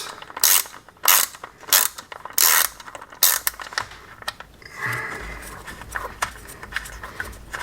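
A hand ratchet loosens 10 mm bolts on the convertible top cover of a C8 Corvette hard top convertible. It gives several short bursts of rapid, close clicking, followed by quieter metallic handling.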